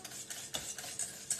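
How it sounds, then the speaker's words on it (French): Madeleine batter being stirred in a bowl, a continuous wet scraping with soft rhythmic pulses, close and alone. "Donc, je mélange."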